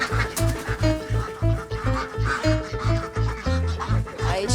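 A flock of chickens being let out into a backyard clucks busily and rhythmically close by, with a steady pulsing background and overlapping calls.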